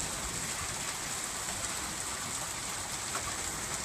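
Light rain lingering after a thunderstorm in the Rhône-Alpes region falls as a steady, even patter of drops with no talk over it.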